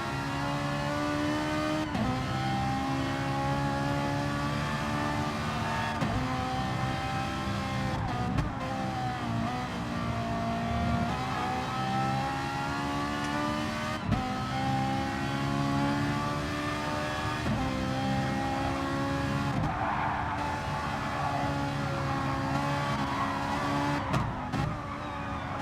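Race cars, including a Lamborghini, in a racing video game at Sainte Croix, heard as steady loud engine drones that rise and fall with gear shifts, several cars overlapping continuously.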